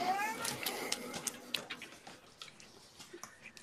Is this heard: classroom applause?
no